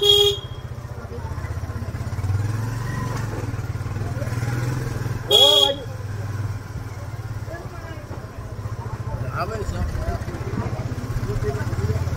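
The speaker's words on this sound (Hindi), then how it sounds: "आगे चले बाइक।" Motorcycle engine droning steadily while riding a mountain road on the Gangotri pilgrimage route in Uttarakhand, with a vehicle horn honking sharply about midway and voices talking over the ride.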